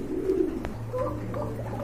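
A pair of Raj Gola pigeons, blue-bar colouring, coo softly at close range in a pigeon collection, with a few low throaty coos and faint background noise.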